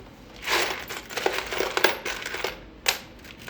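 Small metal screws for an arcade cabinet are handled and dropped, giving a few close, bright metallic clinks and rattles in quick clusters, with a last clink near the end.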